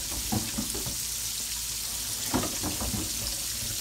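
Squash frying in a pan, a close, loud hissing sizzle that runs steadily with occasional crackles and pops, no talking.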